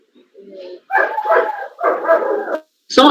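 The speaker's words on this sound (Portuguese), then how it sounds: "tem um cachorro aí" A dog barks several times in quick succession during a meeting, loud and close with whimpering yips between barks, and one more bark starting at the end.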